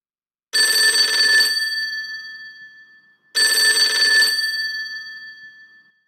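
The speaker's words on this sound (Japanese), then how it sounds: "数日後、 電話がかかってきた。" Telephone in the PS1 horror game Kowai Shashin rings twice, each burst a bright electronic trill that fades out, separated by a short gap, loud and clear with no voices.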